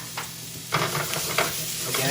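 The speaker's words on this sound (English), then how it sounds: "We're now going to go ahead and add our onion" Onion dropped into a hot pan for lentil and sweet potato lasagne, a sudden loud sizzle that keeps frying steadily with stirring scrapes, close and alone.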